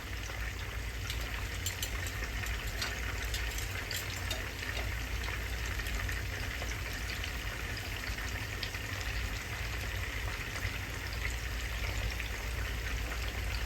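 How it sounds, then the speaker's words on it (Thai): Fish fries in hot oil with a steady, dense crackling sizzle that holds at an even level throughout, close and without talk. "ทอดปลาทอดปลา"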